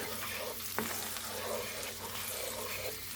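Finely chopped onion, about half a small one, frying in a pan over medium heat for creamed spinach, giving a steady close sizzle with one brief sharp tap near the start and no talk.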